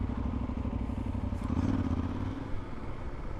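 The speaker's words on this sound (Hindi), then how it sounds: "इस बाइक का फ़ायदा ये कि उड़ती हुई जाती है." A small motorcycle rides through Dawson City, its engine a steady, close, rumbling drone with faint rattles and clatter over it and no talk.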